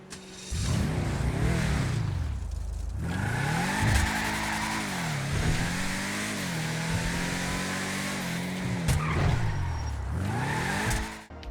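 A Dodge Challenger-based muscle car in GTA V revs and accelerates through repeated gear changes, its engine note rising and dropping in loud sweeping cycles with occasional tire squeal, close and continuous.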